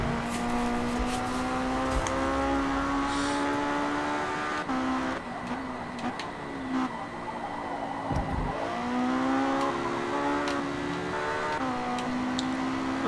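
A front-wheel-drive race car's engine in a racing video game revs high and steady, with gear shifts and dips in pitch as it brakes and accelerates through a lap.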